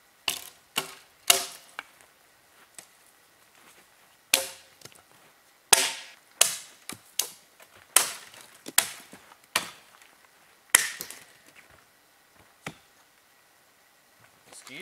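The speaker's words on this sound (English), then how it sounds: "Gonna bust up some kindling and some fuel from it." Kindling wood being split for a campfire at a wilderness canoe trip campsite, with a dozen or so sharp, close cracking chops at irregular intervals and quiet rustling between them.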